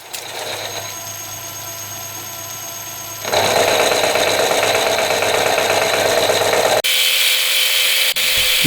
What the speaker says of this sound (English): Each of the irons is now held in the mill vise on parallels while I reduce the width of the stock